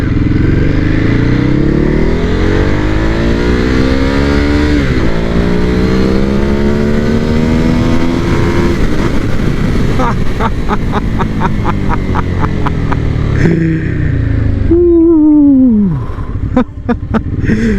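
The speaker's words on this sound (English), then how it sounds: "Let's do our pull test. I already have it in race mode." A 2014 Ducati Hypermotard SP motorcycle accelerates hard in race mode, its loud close engine note climbing steadily through the revs, then shifting gear and rising again, ending with a sharp rapid burst of exhaust crackle.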